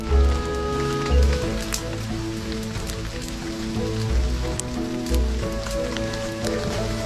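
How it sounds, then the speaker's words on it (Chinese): Light rain falling steadily in the wilderness beside a campsite, a soft continuous patter with scattered drips, joined by faint low tonal hums and occasional soft thuds, with no talking. "此时不断下着的小雨形成一种白噪音"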